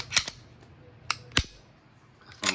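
Dry-fire trigger break on a Glock Gen 5 pistol with a flat-faced trigger: a handful of sharp, crisp metallic clicks spaced irregularly, close and fairly quiet against a low background hum.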